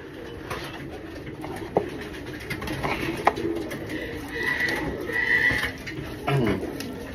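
Pet pigeons coo softly and repeatedly near a feeding spot with minerals and pickstone, low burbling calls over light background noise and occasional bumps.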